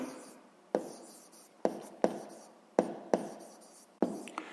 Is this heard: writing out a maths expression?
yes